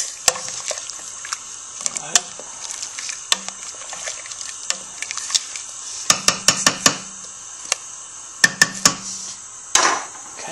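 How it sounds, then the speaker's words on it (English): A spoon stirs Korean beef stew in a pot, giving soft scraping and knocking with several sharp clinks against the pot, most clustered toward the end. "Let's give it a bit of a stir."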